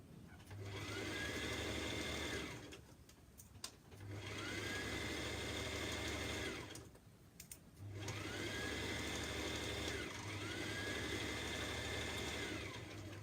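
A sewing machine hums in three sustained runs separated by brief pauses, stitching a permanent seam at regular stitch length on a simple top; the whir is steady and close, with a low motor drone under each burst.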